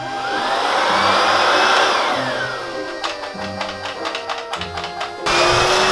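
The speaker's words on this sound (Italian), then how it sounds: "adesso ci manca passare l'aspirapolvere" A recently bought vacuum cleaner runs steadily indoors during a cleanup after a studio move, a loud continuous whine that shifts in pitch, then dips as the nozzle works the floor with bumping and knocking before surging back up.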